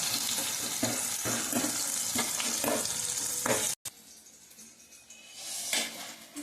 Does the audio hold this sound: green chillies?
yes